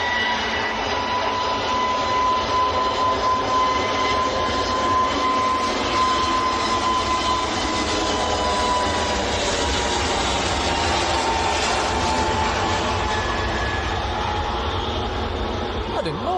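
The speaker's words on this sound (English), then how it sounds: "To roll is EasyJet going full length, going out to Espargos." EasyJet airliner on a full-length takeoff roll at Manchester Airport bound for Sal, Cape Verde: a steady, loud broadband jet roar with a sustained whine held throughout.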